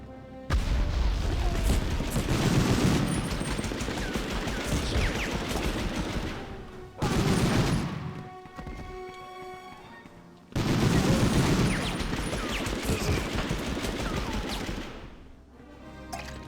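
Gunfire in the PS1 video game Medal of Honor: dense bursts of rapid shots and booms in two long barrages split by a brief quieter gap, loud and close throughout.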